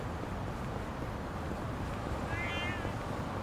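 Cat meowing in the video game Yakuza: Like a Dragon, one short, fairly faint meow rising near the end over a steady background hiss.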